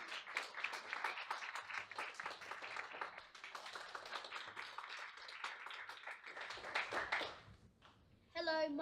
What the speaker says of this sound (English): Can we just have a round of applause for Femi, please?